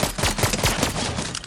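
Rapid gunfire in Fortnite, a dense run of loud sharp shots packed closely together over a second and a half, with no talk.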